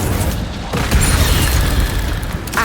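A fiery Incendio spell cast in Hogwarts Legacy erupts as a dense, booming burst, with a sustained roaring blast that swells near the one-second mark and rumbles on to the end.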